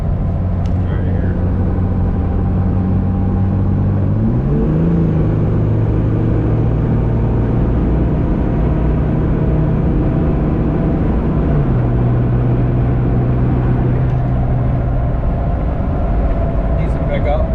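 A 6.7 Cummins diesel pickup tuned with EFI Live pulls hard on a highway, a loud steady cabin drone whose engine note climbs, drops at a shift, climbs again and shifts once more.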